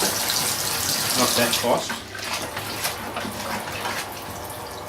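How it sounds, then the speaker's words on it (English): A cold water tap runs in a kitchen during home beer brewing, a steady close rushing splash that dips briefly midway, with a short spoken remark over it. "switch the cold tap on"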